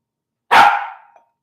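A single sharp dog bark, close and loud, with a short trailing tail and silence around it.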